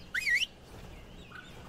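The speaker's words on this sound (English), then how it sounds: "Your bird is, like, attacking another bird and won't listen to my whistles." Bird cries and whistles from the video game Ark Survival Evolved, in which a tamed bird is attacking another bird: two short, bright warbling calls, the second fainter, and a third starting at the end. No talking.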